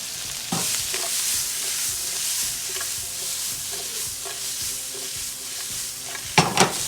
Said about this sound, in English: I'm gonna add the steak back in it, and we're just gonna give it a quick saute